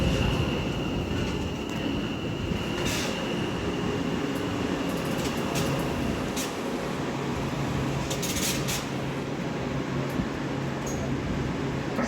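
A pair of London Northwestern Railway Class 730 electric trains runs at Milton Keynes Central station, a steady loud rolling rumble and hum with occasional brief squeals and clatter, continuous throughout and with no talk.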